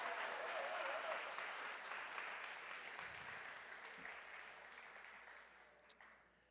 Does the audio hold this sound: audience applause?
yes